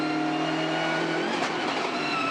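On-board race car engine at the Bathurst 12 Hour revving hard, a high tonal whine that rises and then drops sharply as the driver lifts off.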